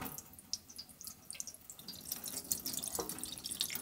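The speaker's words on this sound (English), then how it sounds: "and then there's a little tap." A small tap in a remote mountain hut runs and drips into a washing-up basin, producing light splashing and scattered drips that grow a little busier toward the end. It sounds close and fairly quiet, with no voices.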